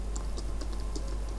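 Quick, light clicks of a computer keyboard as C# code is typed, a soft close patter of keystrokes over a steady low hum.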